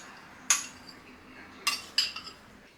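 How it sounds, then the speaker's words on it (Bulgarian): Onion being tipped from a container onto a plate of pasta in a home kitchen, heard as three brief clinking clatters of utensil and dish, separated by pauses, fairly close and not loud, with no talking. "Изсипвам лука"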